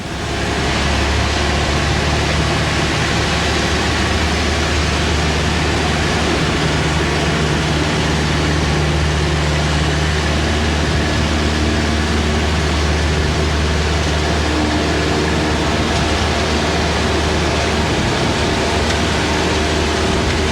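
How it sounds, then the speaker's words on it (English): Aircraft engines roar steadily through a normal takeoff, a loud, dense and unbroken drone with a low rumble that holds for the whole stretch. "This is just a normal takeoff."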